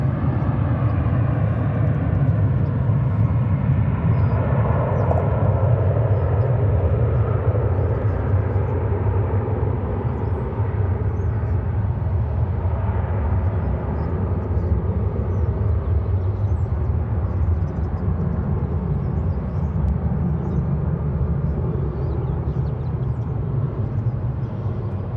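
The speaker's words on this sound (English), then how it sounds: "It's an Airbus A321, and it's going to Phoenix." An Airbus A321 airliner bound for Phoenix taking off at Dallas Fort Worth airport, heard as a loud, continuous low jet roar with a broad rumbling body that stays steady and sustained.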